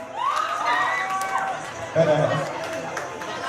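Live audience at a campus on-the-spot modeling contest breaks into cheering and shouting for a contestant, a rising crowd roar with whoops and chatter, close and fairly loud, with a voice talking over it.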